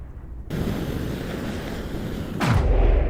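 Artillery bombardment of warships in a naval strategy video game: a sudden roaring wash of heavy fire that swells into a deep booming rumble near the end, with no voices.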